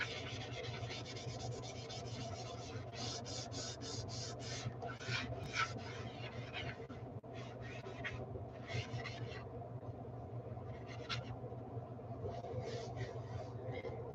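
A board eraser rubs across a bistro cafe kitchen sign in quick repeated scrubbing strokes, a close, soft raspy swish in bursts over a low steady background hum.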